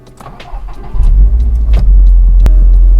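A Subaru WRX STI fitted with a new downpipe cold-starts with a brief starter crank, then catches into a loud, deep, steady rumbling idle, close and with no talk.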